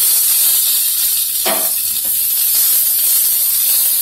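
Eggs hitting a hot pan sizzle loudly in a steady, continuous hiss, with a brief sharper crackle burst as they go in, close and alone without talk.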